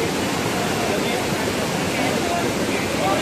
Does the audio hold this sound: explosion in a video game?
no